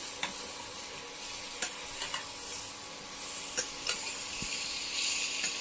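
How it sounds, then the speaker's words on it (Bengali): Okra being stirred into fried gram flour in a pan, a soft continuous sizzle broken by scattered clinks and scrapes of a spatula against the metal, no one talking. "এবার নাড়াচাড়া করে মিশিয়ে নিলাম"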